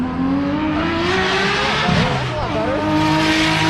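A rear-wheel-drive car at a race track revs hard with rising engine pitch and tire squeal during a burnout attempt, loud and close, while people talk over it.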